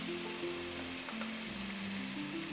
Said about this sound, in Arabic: وحبتدي أضيف صلصة طماطم، أنا خلطاها مع شوية شطة سائلة